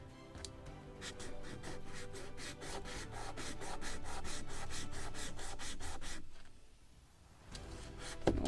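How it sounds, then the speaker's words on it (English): Repeated back-and-forth rasping as a small wooden part for a model gun carriage of the 1776 gunboat Philadelphia is sanded by hand, steady strokes running continuously, then easing off briefly before resuming close up. "When I will finish this piece with sanding."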